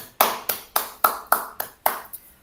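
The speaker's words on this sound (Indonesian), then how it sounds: "tepuk tangan untuk kita semua" A classroom of students claps together in seven sharp, evenly spaced bursts, like a rhythmic clap-along rather than loose applause, loud and close with no talking over it.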